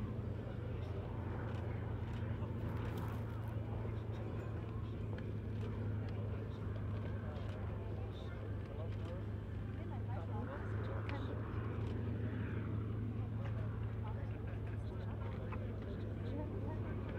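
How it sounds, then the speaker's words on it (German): A Junkers F 13 vintage airplane approaches to land on a grass runway, its engine a steady distant drone throughout, with a person talking over it. "die F-13 jetzt im Anflug auf die Piste 3-1 von links"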